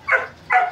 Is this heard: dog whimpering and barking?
yes